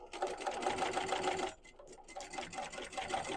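A sewing machine stitches slowly over a thick seam of a sling bag with bias tape, running in a steady close whir, pausing briefly midway, then resuming its rhythmic stitching.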